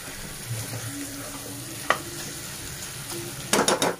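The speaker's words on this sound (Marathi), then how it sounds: "परतून घेऊ चांगलं मसाला" Masala sizzles and is stirred in a pressure cooker for Agri chicken rassa, a steady frying hiss with a sharp utensil scrape midway and a louder burst of stirring near the end.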